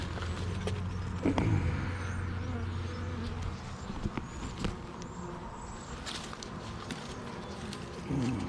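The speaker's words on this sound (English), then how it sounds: "and see what the bees do." Bees buzz around an open hive, with a close drone at the start, scattered buzzing passes, and some handling and rustling noises nearby.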